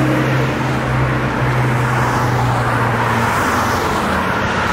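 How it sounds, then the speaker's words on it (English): A car rushes past very fast on an Iranian street, a loud broad roar of engine and tyre noise close by, with no talk. "a car going really fast right next to the cow, passing her, startling the cow"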